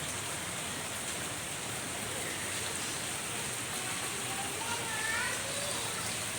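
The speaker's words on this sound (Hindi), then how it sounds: "अभी इस टाइम पर जो है वो फुल स्पीड में बारिश आ रही है" Heavy rain pours down in Karachi during a downpour, a dense continuous hiss that fills the whole scene at a steady level, with no voices heard.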